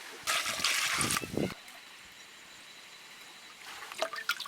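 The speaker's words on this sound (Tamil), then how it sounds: "சுடுதண்ணி ஊற்றி குடலை அலசிக்கலாம்." A short burst of hot water pouring and splashing over goat intestine being rinsed, close and moderately loud, followed by quiet and a faint trickle near the end.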